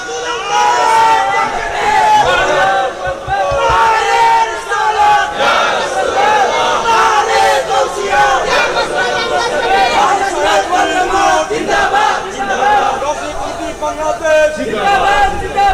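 Large crowd shouting religious slogans in unison during an Islamic sermon, loud and sustained with overlapping voices and chatter throughout.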